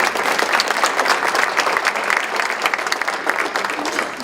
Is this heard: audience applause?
yes